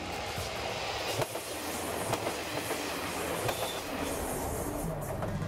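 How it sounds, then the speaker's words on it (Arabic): Train rolling into Kagoshima city in southern Japan on Kyushu, a steady rumble of wheels on rails with faint clicking joints, continuous and close, with no voices. "وصل القطار إلى مدينة كاغوشيما."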